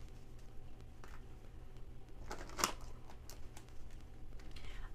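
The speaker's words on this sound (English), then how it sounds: "let's get a couple of shuffles here so we can clarify." Tarot cards are shuffled by hand, a few quick papery riffles and soft slaps, quiet and close, with a brief sharper riffle near the middle.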